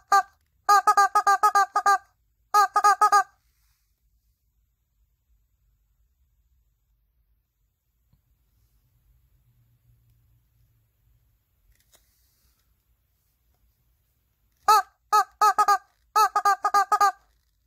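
A rubber chicken toy honks in quick clusters of loud squawks at the start, followed by a long quiet stretch, then another burst of rapid honks near the end.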